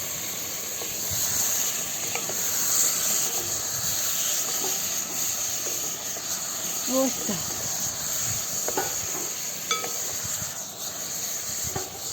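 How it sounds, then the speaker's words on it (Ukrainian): A steady high hiss of pork ribs frying in hot rendered fat over a campfire fills the scene, with occasional clinks and faint background sounds. "Я закидаю сюди ребра тепер. Будемо підсмажувати."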